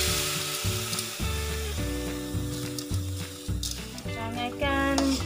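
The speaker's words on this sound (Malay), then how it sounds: "Sangaikan beras pulut kita ni sehingga kekuningan ataupun keperangan" Washed glutinous rice being dry-roasted in a pan gives a steady dry rattling and scraping hiss as it is stirred, partly buried under looping background music with a regular beat.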